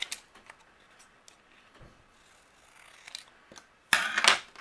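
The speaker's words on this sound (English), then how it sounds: "But I will just trim away this." Scissors trim stamped cardstock for a greeting card, a few faint snips early on followed by a louder, closer burst of cutting near the end, with no talking.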